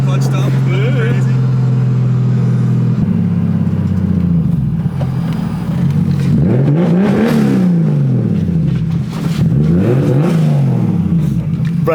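A turbocharged BMW E36 with an S52 engine revs hard on a dyno, including a clutch dump. Loud, repeated rising and falling engine sweeps build up and drop away.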